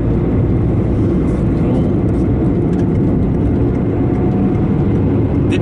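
Car engine droning steadily and loudly while passing a tractor on a country road in the Artois region of northern France, a continuous low rumble with wind and road noise throughout.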